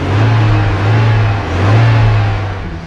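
A car engine revs steadily and loudly, its low droning pitch rising and swelling twice across a few seconds, with no voices.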